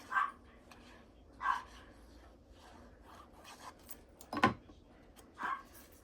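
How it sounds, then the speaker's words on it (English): A dog barks several times at a distance, short single woofs spaced irregularly over quiet background. "So you guys hear Iko barking in the background."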